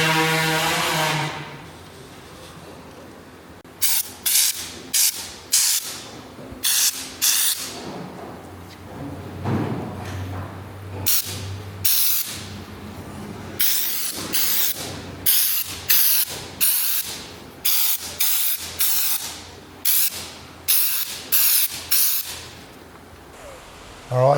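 Spray gun applying stone guard coating to a car body during a restoration, heard as repeated short hissing bursts of spray stopping and starting in a steady rhythm, fairly close, with a faint low hum underneath.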